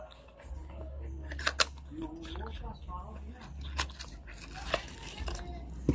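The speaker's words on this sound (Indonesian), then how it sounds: "Langsung saja kita unboxingnya." Packaging of an AOC MS121 computer mouse being opened, with scattered crinkles, snaps and rustling cardboard and plastic close to the microphone, under someone talking.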